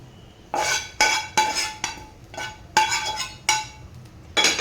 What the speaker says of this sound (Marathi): आणि अंडी पण भातामध्ये मिक्स करून घ्यायचं आहे